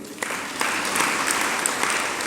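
Audience applause for a Jain religious discourse by Acharya Vidyasagar, with steady, dense clapping from a crowd that keeps up evenly for a couple of seconds.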